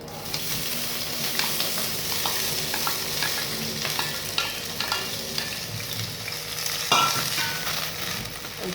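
Green peas sautéed in a hot pan with oil, a constant crackling sizzle broken by repeated scraping stirs, close and moderately loud.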